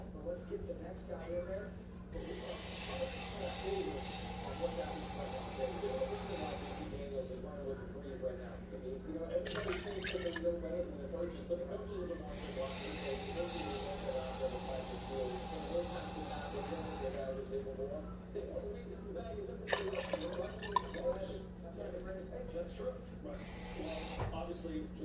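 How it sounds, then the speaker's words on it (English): Water poured into a pot of seafood and smoked sausage gumbo, a loud sustained hiss in several long bursts over a steady hum, with talk running throughout. "Now I'm going to add roughly 4 to 5 cups of water."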